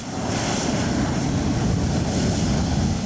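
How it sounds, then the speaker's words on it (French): An airplane taking off from a runway gives a continuous, loud, broad engine roar that holds steady from start to finish, with no voices. "Une fois tout le monde embarqué, attaché et la piste dégagée, l'avion peut décoller."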